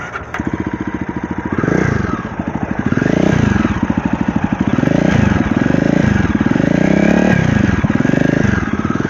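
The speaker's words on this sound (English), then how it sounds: "So now we are going to fire up the engine to see how it sounds." A Jawa Perak motorcycle with a custom exhaust runs loud and close, its engine thumping in a steady rapid beat that swells and eases through several revs.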